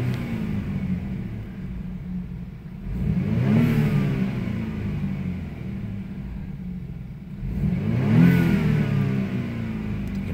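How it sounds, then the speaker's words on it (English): BMW 328i with N20 turbo engine and K&N drop-in filter, warm, revving twice with rising whoosh of turbo spool and intake suction, a low steady idle rumbling between the blips. "Hear the turbo spool a little bit"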